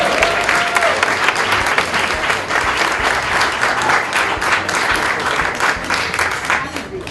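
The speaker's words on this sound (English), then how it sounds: "why don't you give a big round of applause to our new county assessor" A welcome party crowd gives a big, sustained round of applause for a new county assessor, loud and steady clapping throughout with cheering and voices mixed in.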